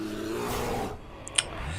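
A short bear roar from the Bear Trap secret in the Hearthstone card game, a broad rumbling growl for about a second that fades out, followed by a couple of faint high chiming effects.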